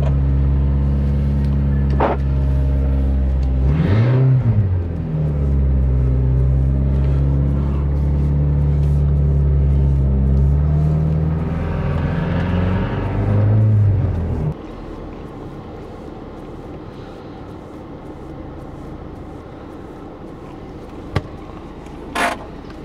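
A VW T5 Transporter van idles and drives at low speed, its engine hum rising and falling as it manoeuvres into a parking spot, then cuts off, leaving quiet with a couple of faint clicks.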